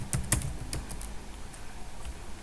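Typing on a computer keyboard while writing a letter in MS Word, with a few sharp key clicks early on, then quieter, sparse taps over a low room hiss and no voices.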